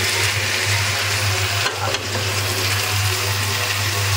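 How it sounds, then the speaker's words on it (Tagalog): Vegetables sizzling in a pan while being stirred, a steady close frying hiss over a low constant hum, with a short clatter partway through and no speech. "haluhaluin lang natin hanggang sa lumambot yung gulay"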